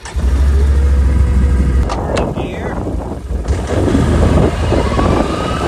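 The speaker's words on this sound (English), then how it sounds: "But let me start it up and take it for a little ride." Can-Am Outlander 650 ATV engine starting up and riding off, a steady mid-pitched motor drone holding close and loud throughout, briefly dipping midway before building again, with talk mixed over it.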